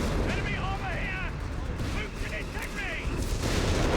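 Artillery fire in Company of Heroes 3 during a large battle on a wetlands map, loud booming impacts and gunfire mixed with battle noise and whistling shells, dense and continuous throughout.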